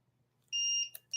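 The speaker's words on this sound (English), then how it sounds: "Oop, there's our timer. It's been 30 minutes." A timer alarm sounds during a bullet journal session, with a sharp electronic beep that holds briefly and then chirps again, loud and close against a quiet room.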